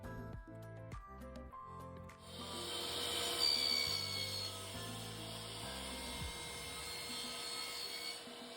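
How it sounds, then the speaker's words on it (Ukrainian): A wooden interior door frame is cut to shorten it by 3 mm during door installation, producing a continuous, fairly loud rasping cut that starts after a few light knocks and runs steadily to the end. "цю стоєву коробку, яка буде в цьому проємі, ми зараз маємо з вами відрізати на 3 мм"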